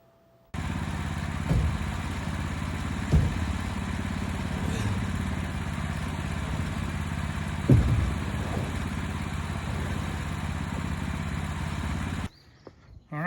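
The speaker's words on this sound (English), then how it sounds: "Now here we're going to take a 2-inch thick, 12 3/4 inch wide, 10-foot long board off this beautiful southern yellow pine." A sawmill cuts a 2-inch thick, 12 3/4 inch wide, 10-foot board from a southern yellow pine log. Its engine drones steadily, broken by a few clunks, then stops abruptly near the end.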